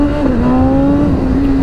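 A BMW S1000RR motorcycle accelerating hard, its loud, close engine note holding a strong steady whine that dips slightly and climbs again throughout the short stretch.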